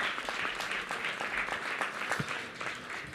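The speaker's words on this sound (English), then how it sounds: "You stop clapping your hands." An event audience claps steadily, the individual hand claps distinct within a soft, continuous wash of applause that holds throughout without a break.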